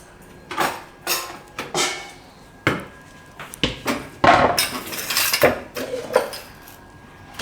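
A knife cuts washed tomatoes on a board, giving a series of irregular close knocks and clatters with short pauses between them.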